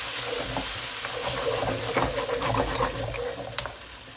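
Stir-fry noodles coated in oyster sauce are tossed and scraped around a hot pan, giving a continuous sizzle broken by clattering stirring strokes, close and fairly loud, with no talking.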